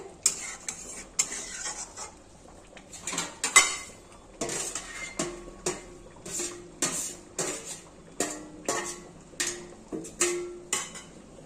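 A metal pot lid knocks and clatters against a cooking pot of simmering fish curry, sharp close clinks repeating at irregular intervals among soft kitchen sounds, with no voices.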